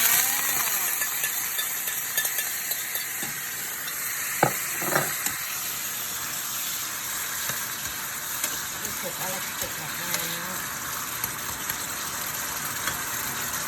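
Asparagus stir-fried with shrimp and squid sizzles steadily in a hot pan, with scraping stirs and a few louder clatters early on, a continuous frying hiss throughout.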